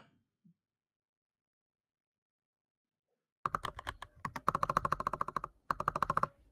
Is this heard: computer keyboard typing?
yes